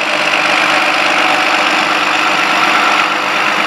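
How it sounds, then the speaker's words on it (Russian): Tractor engine running steadily during potato harvesting with Grimme equipment, including a Grimme GVR 1700 digger, a loud, even mechanical drone with no breaks, heard close. "Трактор передвигается сам, без помощи какого-либо автопилота"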